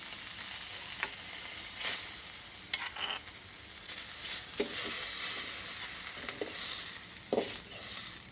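Close, steady sizzle of something lightly dry-roasting in a pan for a jackfruit seed and prawn mash, with occasional soft stirring scrapes and no voices.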